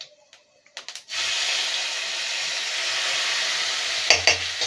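Minced garlic sizzling in hot oil with cumin seeds and a spoon of ghee for a Kolkata-style rui fish gravy: a few clinks at the start, then a steady loud frying hiss, with a couple of stirring knocks near the end.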